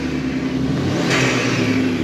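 A VW Scirocco accelerates hard past a group of cars, its engine roaring loudly and steadily close by with a rising swell mid-pass; no distinct turbo flutter stands out from the engine noise.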